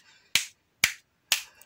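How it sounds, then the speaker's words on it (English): Sharp, dry hand claps for a kindergarten counting song ring out alone and close in a steady rhythm, about half a second apart, with silence between them. "give me four claps."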